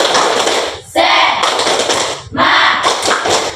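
A group of students claps the 'tepuk semangat' spirit clap as a classroom ice-breaker, loud rhythmic bursts of hand claps in patterned sets separated by brief pauses.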